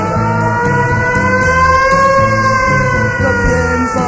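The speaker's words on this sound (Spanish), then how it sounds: "Sirenas suenan locas," A siren wails loudly and steadily in long rising and falling tones, layered over a garage rock band's pounding drums and guitars in a song.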